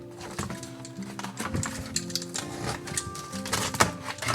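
A very sharp knife slices open a mailed comic book package, making close scratchy cuts and small clicky taps in uneven bursts. The sounds are fairly quiet, and nobody speaks.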